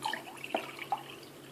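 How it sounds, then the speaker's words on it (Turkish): Celery stalk juice is poured into a clear glass, heard as a few soft splashing drips and trickles, close and faint, lasting only a moment. "Fakat bakın şimdi şeffaf bir bardağın içine dökeceğim"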